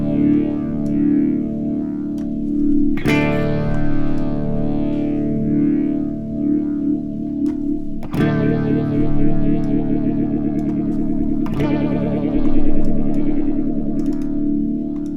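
Distorted electric guitar runs through the phaser effect on an Axe FX 3 processor. Sweeping, swirling chords are struck three times, and each rings out with a fast-modulating whoosh.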